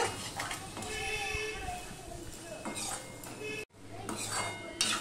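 Steamed flat beans stirred with spices in a pan, metal utensils clinking and scraping against the pan while a person talks over the cooking.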